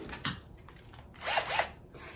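A power drill bites into a tough plastic kaiju toy in short bursts: a brief whir, then two louder grinding pulses close together, nearby and alone.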